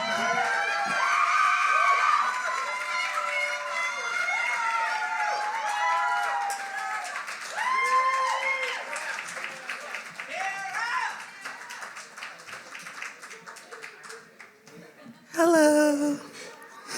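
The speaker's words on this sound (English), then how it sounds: "Please give a huge round of applause." Audience at a poetry slam claps and cheers for the next poet, a steady wash of applause with overlapping voices and whoops, fading toward the end before a brief louder burst near the close.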